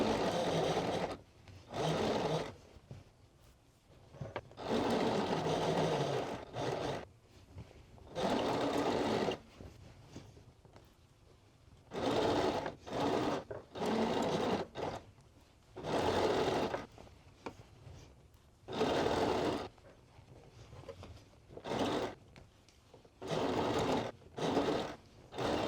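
A sewing machine stitches through a trouser waistband beneath a belt loop, running in short bursts of rapid steady whirring separated by quiet pauses, close and alone without talk.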